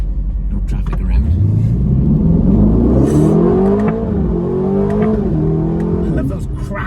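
A 2025 Aston Martin Vantage engine revs hard through the gears, rising in pitch with each pull and dropping at upshifts with sharp exhaust cracks, loud and close.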